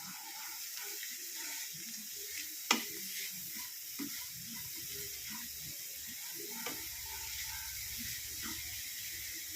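Mashithandu (peperomia) thoran being stirred with cooked green gram in a pan, a soft continuous sizzle with scattered scraping and clinking from the spoon, one sharper knock early on, no talking.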